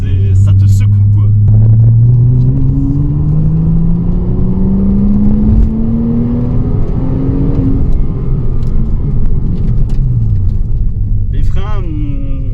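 Porsche Cayman S 987 engine revving hard toward the rev limiter from inside the car, a loud rising howl that climbs over several seconds, falls back and climbs again, with rumble throughout and a voice briefly heard.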